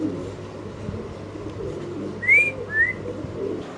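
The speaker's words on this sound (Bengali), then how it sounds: "একদম সুপার কোয়ালিটির এক জোড়া কবুতর" Fancy pigeons kept for sale at a dealer's coop give a low, murmuring coo under a soft background rumble, then two short, whistle-like calls in quick succession near the end, with no speech.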